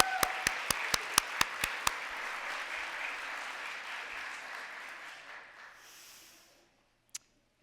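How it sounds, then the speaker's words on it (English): A burst of clapping opens with a few sharp claps, swells into steady audience applause at a political organization's kick-off event, then fades out, followed by one short sharp sound. "Let's give them a round of applause."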